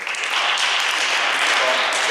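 An audience at a volleyball coaching workshop in Budapest applauds with a steady burst of clapping lasting a couple of seconds, while a voice talks over it.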